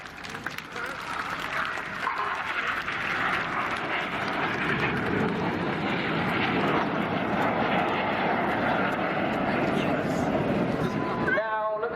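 Red Arrows synchro pair jets sweep past at a seaside air display in Weston-super-Mare, a loud, sustained broadband roar that fills the whole clip. The crowd's noise and a commentator's voice are mixed in beneath it.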